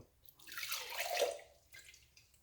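Tap water runs while a blender jar is rinsed out after making carrot juice. The faint splashing swells for about a second, then trickles off, with no talking.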